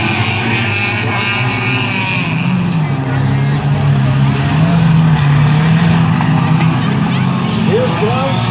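Double-decker racing cars, including the number 24 car, roar together on track while one tries to overtake, engines droning with shifting pitch under continuous commentary.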